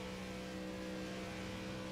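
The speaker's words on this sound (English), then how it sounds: "Listen to this engine." A steady, droning race car engine in the iRacing video game at a Texas oval, heard as a continuous even whine with no talk over it.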